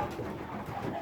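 Racing pigeons coo softly and continuously in a loft, a low murmuring bird sound held steady for about a second with no talk over it.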